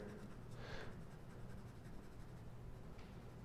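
A pencil shades across toned paper in a couple of faint, brief scratchy strokes, soft and close against a quiet background.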